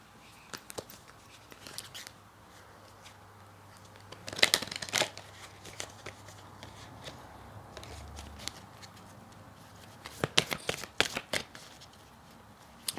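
A deck of tarot cards is shuffled by hand in two clear riffling bursts with scattered soft card taps and flicks between them, close and fairly quiet with no talk.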